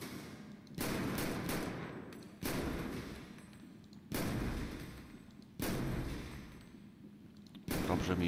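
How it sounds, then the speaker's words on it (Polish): Pistol shots in the video game GTA 5, fired at a police academy shooting range. Five loud, evenly spaced shots ring out roughly every one and a half seconds, each trailing off into a reverberant tail. "Na razie będziemy uczyć się strzelać z pistoletu."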